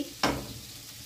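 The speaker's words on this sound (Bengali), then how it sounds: "পেঁয়াজ আদা রসুন টমেটো কাঁচা লঙ্কা সব কিছু ভালোভাবে ভেজে নিয়েছি।" Onion, ginger, garlic, tomato and green chilli fry in a pan on low flame, a short stirring scrape followed by a steady soft sizzle.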